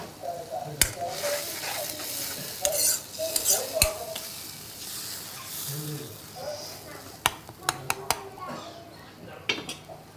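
Stuffed brinjals simmering in masala gravy, a low bubbling sizzle with recurring scrapes and sharp clinks of a utensil stirring against the pot, under occasional quiet voice sounds.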